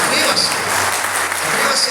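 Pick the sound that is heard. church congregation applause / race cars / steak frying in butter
church congregation applause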